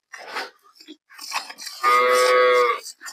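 A first-calving dairy cow on a farm gives one loud, drawn-out moo near the end, preceded by soft shuffling and chewing-like noises close by.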